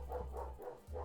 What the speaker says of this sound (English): So sorry for the dog voices in my microphone.